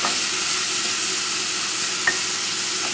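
Thyme, bay leaves and aromatics sweat in a pan for basmati rice with shrimp, giving a steady, moderately loud sizzle with a faint tick of stirring, no voices.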